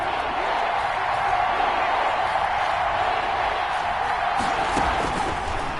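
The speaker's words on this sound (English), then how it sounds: "the crowd getting into it as we come up on a big 3rd down" Crowd noise in a football video game as a big third down approaches, a steady loud roar of cheering with no clear breaks, sustained throughout.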